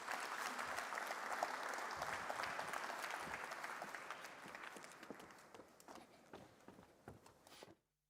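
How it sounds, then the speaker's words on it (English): A large audience at an intra-African trade fair keynote claps warmly as guests walk to the stage, a dense, steady roar of applause that thins and fades out near the end. "give them a warm round of applause as they make to the stage"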